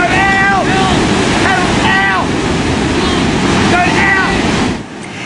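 Big ocean swell surging and crashing against rocks on the Tweed coast, a continuous loud roar of surf and wind with no pauses, close by.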